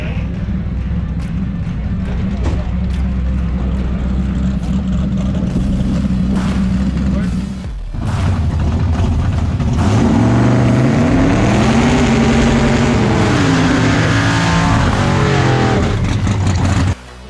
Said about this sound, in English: Something's wrong with the car. She doesn't sound right